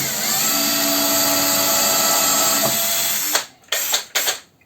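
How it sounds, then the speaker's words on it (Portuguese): A power drill bores a hole in wood in a woodworking shop, whining steadily up close for a few seconds, then cutting off and giving two short final bursts. "Termina o furo."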